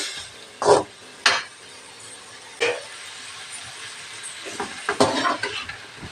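Moringa drumstick pieces fry in a pan with a faint sizzle, broken by several sharp clanks of stirring against the cookware.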